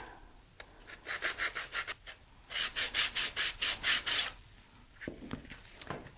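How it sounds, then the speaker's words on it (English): Sandpaper rubs down the edges of a rocket tube in quick rhythmic bursts, two runs of about six to eight strokes each, close and fairly loud, with a few scraping knocks at the end. "we'll take some sandpaper and just sand down"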